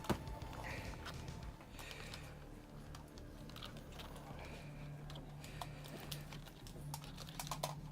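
Typing on a replacement laptop keyboard fitted to a machine whose motherboard isn't recognizing its inputs: a steady run of light, close key clicks against a low background hum.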